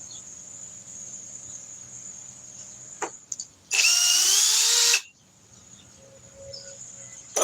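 A Flex cordless power drill runs in one loud, steady burst of just over a second, with brief trigger blips before it, against a quiet background with a faint insect-like hum.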